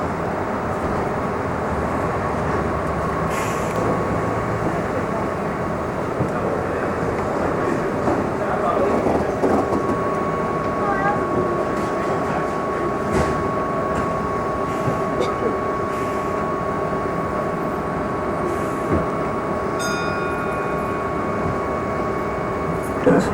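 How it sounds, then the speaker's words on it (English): A 1989 Disneyland monorail train running, with a steady rumbling ride noise and faint tonal whine heard continuously from on board. "You're traveling aboard the first daily operating monorail system in America"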